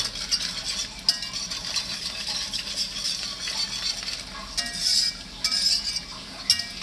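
Seafood boil sauce with chili powder being stirred in a pot: scraping, clinking stirring strokes with a faint sizzle underneath, steady and close, no voices.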